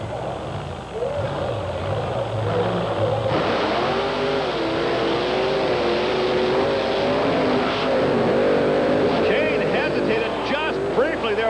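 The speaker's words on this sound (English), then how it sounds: "we have Gravedigger Dennis Anderson in that 1950 Chevy panel wagon against the 4-year-old King Kong, the Ford with Chevrolet power" Monster trucks race at Myrtle Beach, a 1950 Chevy panel wagon against a Ford with Chevrolet power, engines roaring and revving steadily with pitch sweeps while an announcer talks over the noise.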